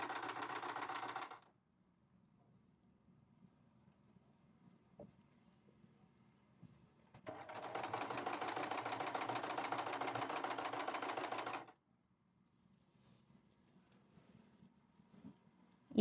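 An Usha Janome sewing machine runs a picot stitch along a rolled fabric edge in two steady, even bursts, about one and five seconds long, with near-silent pauses between them.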